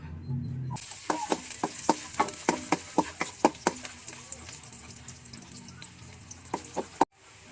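Garlic sizzles in oil in a home kitchen pan while a Filipino sotanghon noodle dish with sardines is cooked, making a steady bright crackle broken by repeated sharp scraping or stirring clicks, close and moderately loud, cutting off abruptly near the end.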